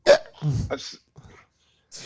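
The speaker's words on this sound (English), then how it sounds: "Are you trying to make fun of my hiccups?" Close, sharp hiccup bursts mixed with short voiced gasps, a few quick jolts spaced unevenly across two seconds, with quiet gaps between.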